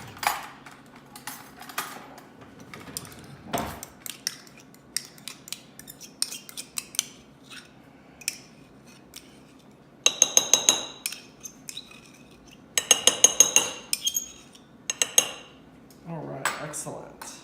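A spoon clinks against a mixing bowl while sour cream is stirred into cheesecake batter, with bursts of quick, bright, repeated metallic taps in a few clusters that stand out against a quiet kitchen background.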